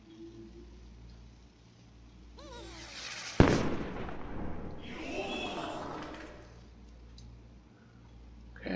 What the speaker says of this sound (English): shoot a firework